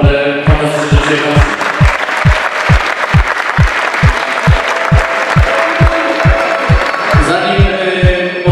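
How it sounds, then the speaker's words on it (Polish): Sustained applause from a crowd at a Polish Fighter Cup 5 fight event in Szczecin, dense and steady throughout, with a rhythmic pulsing thump running beneath it. "To gorące brawa dla Was"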